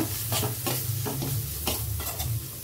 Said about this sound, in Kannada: ಈಗ ಇದನ್ನು ನೀಟಾಗಿ ಒಂದು ಮಿಕ್ಸ್ ಮಾಡ್ಕೊಳ್ಳೋಣ